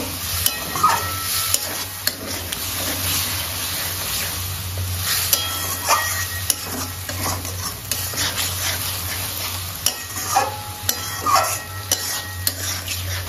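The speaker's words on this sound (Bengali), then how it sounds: "সামান্য একটু জল দিয়ে মশলাটা ভালো করে কষিয়ে নেব" Spice masala with salt and a splash of water being stir-fried in a pan for a cabbage and prawn dish: a steady sizzle under repeated scraping stirs and light clinks of the spoon against the metal, close and fairly loud, with no talking.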